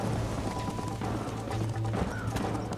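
Horse hooves clip-clop at a steady gallop in Red Dead Redemption on PS3, a continuous rhythmic drumming held close and fairly loud under a faint game soundscape.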